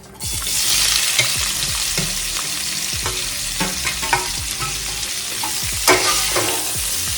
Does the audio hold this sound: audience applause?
no